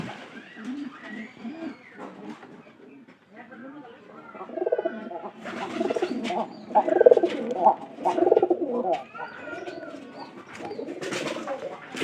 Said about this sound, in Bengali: এটা হলো খয়েরি কবুতর।